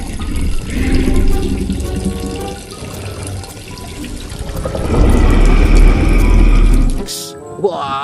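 Running water from a tap rinses a blue plastic toy T-Rex during toy washing, a steady splashing flow under cheerful talk, with a louder gush near the end.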